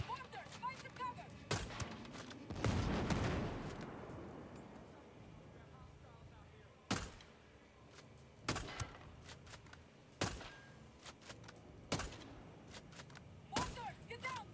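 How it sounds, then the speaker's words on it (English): Mortar fire in the open-world shooter Ghost Recon Breakpoint on Golem Island: a loud rumbling blast early, followed by a series of sharp, spaced impacts at irregular intervals over a low background. "Enemies attacking with mortar!"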